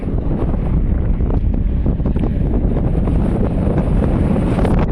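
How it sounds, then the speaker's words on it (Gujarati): Strong wind roars across the microphone beside the Mahuva highway near Talaja, Gujarat, a loud, continuous rumbling buffet that fills the whole stretch with no break. "પવન ફૂલ છે."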